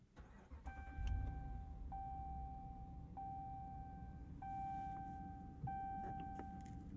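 A 2022 RAM Power Wagon with the 6.4-liter Hemi V8 starts up, a crank and catch settling into a low steady idle, while a high electronic chime repeats in the cabin.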